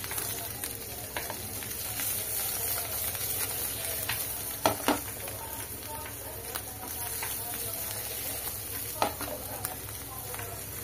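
Paneer fries heavily in a pan in a steady close sizzle, broken by occasional sharp clicks and stirring knocks, with a voice speaking now and then over it.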